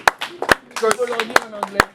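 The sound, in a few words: congregation applauding at a Bible study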